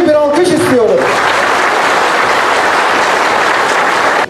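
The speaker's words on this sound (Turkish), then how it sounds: "Kendisine tüm muhtarlarımızdan büyük bir alkış istiyoruz." Loud, dense applause from village headmen at a meeting hall welcoming the mayor, starting right after a voice speaks over a sound system and then sustained evenly throughout.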